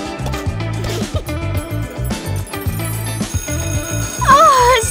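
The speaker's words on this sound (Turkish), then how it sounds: "Ah, zil çaldı. Spor dersi bitti." A ringing electronic school bell signals the end of gym class, a bright repeating tone over background music, loud and close, with a rising warble near the end.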